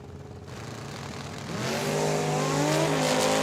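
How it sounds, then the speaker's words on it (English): A racing engine roars and builds in pitch as a Chevrolet S10 pickup truck launches and accelerates hard at a drag strip, loud and close, with no voices. "Left-hand side, Mr. Joe Kidd in his S10 pick-em-up truck."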